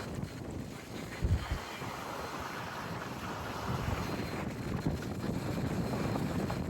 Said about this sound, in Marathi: ही बोट आहे, या बोटीत आम्ही चाललोय.